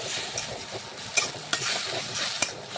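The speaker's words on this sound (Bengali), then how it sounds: "এখন নাড়াচাড়া করে ভালোভাবে মশলাটা একটু দেখুন ভেজে নিচ্ছি।" Spice masala sizzling and frying in oil for a Bengali fish curry, with a steady hiss and a few sharp scraping stirs of a spoon against the pan, close and alone.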